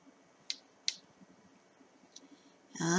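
A computer mouse clicks a few times, sharp and faint, with isolated taps spaced about half a second apart over a quiet background before a louder noise at the end.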